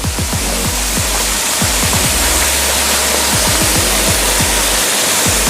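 Constant broad rushing roar of a waterfall at Khum Khun Phaen, Wat Khae, loud and near, with repeated low thumps from wind buffeting the microphone.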